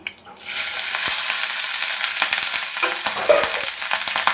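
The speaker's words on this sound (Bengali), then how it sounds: "লং এলাচ দারচিনি তেজপাতা আমার গরম হয়ে গেছে খুব সুন্দর গন্ধ এসেছে ফোরন থেকে এবারে ভাতটা দিয়ে দেবো" Rice tipped into hot oil already fragrant with cloves, cardamom, cinnamon and bay leaves for fried rice bursts into a loud, close sizzle after a brief quiet start, then keeps frying steadily with light stirring scrapes.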